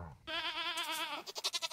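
A single sustained goat bleat from the Stardew Valley farm game, clear and loud with a wavering, quavering tone, breaking into a few short pulsing bleats at the end.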